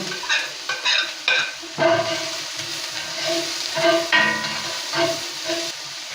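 Bell pepper sizzles and hisses in a hot iron pot, loud and close, with bursts of frying and utensil scrapes as the pieces are stirred.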